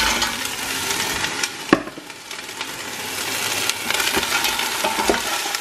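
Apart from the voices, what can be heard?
crabs frying with chili, garlic and ginger, stirred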